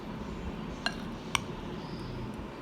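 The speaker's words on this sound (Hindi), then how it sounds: "हम इसको अच्छे से मिक्स करेंगे, give it a good toss" Mango salsa tossed and mixed in a bowl, with two sharp clinks of a utensil against the bowl over a quiet kitchen background.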